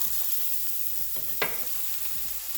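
Onions and peppers sizzle in avocado oil in a preheated skillet, a close continuous crackle with soft scraping stirs and one brighter burst partway through, no talking.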